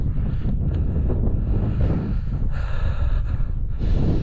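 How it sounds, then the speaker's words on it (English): Strong gusty wind on a Yorkshire mountain summit buffets the microphone nonstop, a loud roaring rumble with surging and easing blasts throughout. "It's so windy up here."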